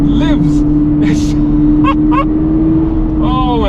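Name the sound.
Toyota GR86 sports car driving on track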